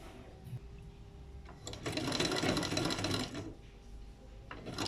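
A sewing machine stitches folded fabric in one burst of rapid whirring lasting just over a second, with quieter handling noises before and after.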